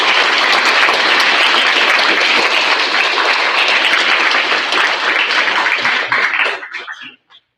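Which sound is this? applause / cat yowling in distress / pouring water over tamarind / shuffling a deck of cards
applause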